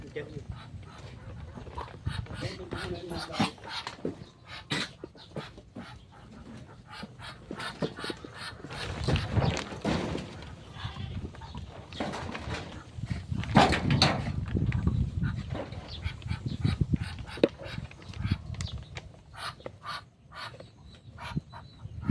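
A tied-up dog whimpers and yelps intermittently close by, under a steady stream of people talking and rustling noise.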